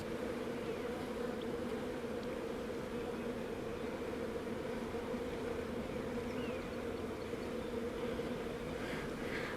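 Honey bees from a newly installed package colony hum in a dense, steady drone that stays constant and close throughout, with no voices.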